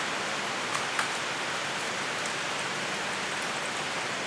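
Steady rain falls outdoors as a dense, even hiss with a couple of faint drop ticks, continuous and unbroken throughout with no voices.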